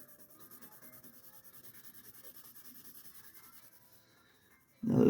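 A pencil shades a drawing on paper with soft, quick, rhythmic rubbing strokes, quiet and close, for about four seconds before stopping, followed by a brief louder thump at the very end.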